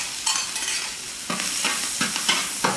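Scallion and ginger hit hot oil in a wok already holding browned tofu, giving a steady close sizzle broken by a few sharp scraping stirs of the spatula.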